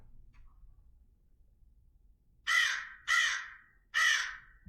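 A crow caws three times overhead, each call harsh and evenly spaced, clear against a quiet low rumble with no talking.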